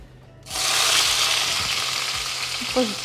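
Eggplant hits hot oil in a frying pan with a sudden loud sizzle that continues steadily and crackles. A few faint scrapes sound underneath.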